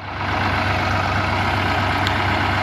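Swaraj and Mahindra tractor diesel engines running steadily at 1000 RPM, a continuous low throbbing rumble with an even pulse, close and loud throughout, no talking.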